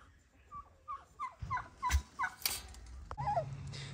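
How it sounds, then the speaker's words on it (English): Turkeys at an animal sanctuary let out a run of quick, rising gobbles, fairly close and moderately loud, followed by a short rustle and one more gobble, with no one speaking. "You see the turkeys coming over"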